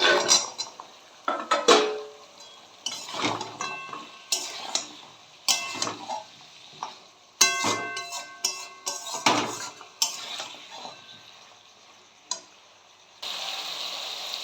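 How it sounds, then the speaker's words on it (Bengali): Potatoes, tomatoes and fried paneer are stirred in a pan for a vegetarian curry, with repeated metallic clinks and scrapes of a spatula against the pan in irregular bursts, close and clear, with quiet gaps between strokes. "আলুটাকে অল্প খানিকক্ষণ আমি একটু কষে নেব"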